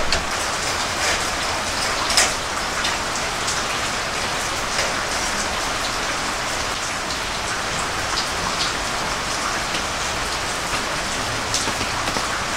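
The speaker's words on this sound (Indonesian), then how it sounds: "hujan" Steady heavy rain pours down outdoors, a continuous loud hiss of drops hitting surfaces with occasional sharper splats, unchanging throughout with no voices.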